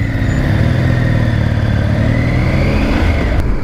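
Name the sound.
Triumph Tiger 900 GT motorcycle engine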